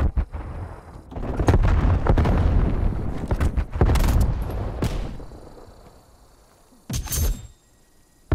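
A frag grenade goes off in Call of Duty: Black Ops Cold War on the Nuketown 84 map, a loud booming blast with rumbling debris, then a sharp burst of gunfire soon after.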